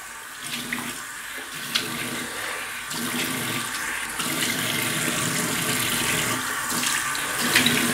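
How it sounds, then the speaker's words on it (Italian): Water runs steadily from a bathroom sink tap while hairs are rinsed out of the basin, a continuous close hiss and splash that swells slightly partway through, with no talk. "fammi pulire qua che c'erano i pelazzi all'interno del lavabo"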